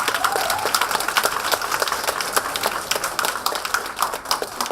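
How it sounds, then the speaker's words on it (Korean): An indoor audience claps for chairman Im Chang-hee at a campaign office opening event in Haeundae, Busan: dense, sustained applause from many hands, fairly close and even throughout. "임창희 회장님 박수 한번 부탁드리겠습니다."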